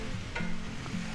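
Sliced mushrooms sizzle in a hot pan for a spicy beef and vegetable stir-fry as they are stirred in, a brief, steady frying hiss with a light scrape of the utensil.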